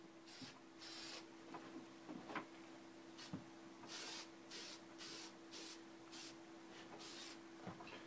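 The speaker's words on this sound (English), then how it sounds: "The trick to using spray cans, whether it be spray paint or lacquer in this case" Quiet hissing bursts from a spray can of clear lacquer being applied to wedding invite boxes come in short, repeated passes of a few seconds each, with a faint steady hum underneath.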